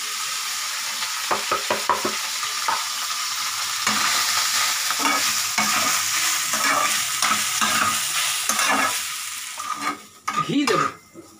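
Rice is stirred and fried in a pan with cumin seeds, giving a close, continuous sizzle broken by repeated scraping and stirring strokes and a few clinks of a utensil.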